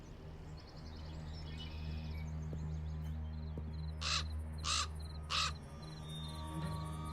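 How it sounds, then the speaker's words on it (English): A raven caws three times in Black Mirror II, harsh loud calls at a steady spacing as it flies out of a crack in the rock, over a low ambient game drone. "The raven flew out of a crack in the rock."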